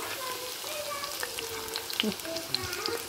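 Pieces fry on slow-medium heat, turning golden brown, a soft, even sizzle that holds steady throughout, with a few light clinks and faint stirring.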